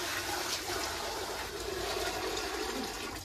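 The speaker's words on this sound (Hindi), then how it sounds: "पानी ऑलरेडी है, पानी को भी यहाँ पे डाल लेते नहीं तो दारू नहीं निकलेगा।" Water is poured into a pot used for distilling home liquor, making a steady rushing, splashing flow close by that continues unbroken throughout, with no one talking.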